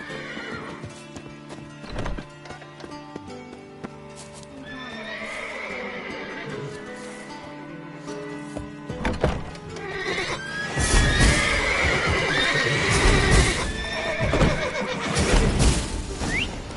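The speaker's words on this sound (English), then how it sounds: "Gotta calm all the horses before they wake the guards." In The Witcher video game, horses whinny and neigh repeatedly over steady clip-clopping hooves, growing louder and busier toward the end, with no talking.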